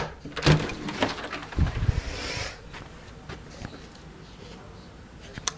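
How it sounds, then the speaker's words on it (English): A door is opened on a snowy day: close rattling and clunking of the latch and frame in the first two seconds, then a soft whoosh of outside air and faint ambient noise. "Let's open this door."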